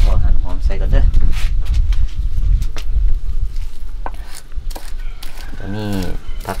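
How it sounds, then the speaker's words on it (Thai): Quick knife chops through shallots on a board in uneven bursts, close by, with a voice speaking over parts of it. "พอหั่นหอมใส่ก่อนเด้อ"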